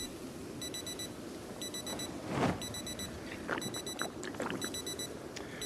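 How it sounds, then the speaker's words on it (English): Repeated electronic beeping in the video game Project Zomboid, short evenly spaced bursts of high tones recurring in groups over a low ambient background, with a brief louder whoosh in the middle. "I hear a beep, beep, beep, beep, beep, beep, beep, beep, beep, beep, beep, beep."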